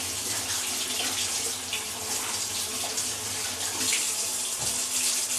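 Hot water runs steadily from a kitchen tap over lemons being washed, a continuous close hiss and splash with no talk.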